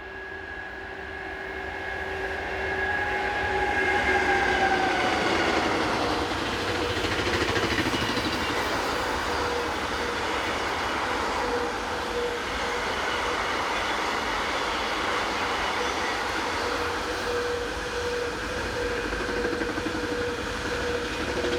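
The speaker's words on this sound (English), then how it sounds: "The once weekly train of car tyres from Puchow to Hanover heads west behind DB Electric number" A DB electric locomotive hauls a westbound freight of car tyres from Puchow to Hanover, its steady rolling rumble and whine of wagons building near and holding loud throughout with no talk.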